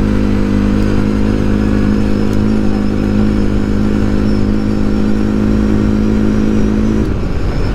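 A CFMOTO CFORCE 400 ATV engine runs at full throttle on a trail, a loud, steady, close droning roar that holds for about seven seconds before easing off.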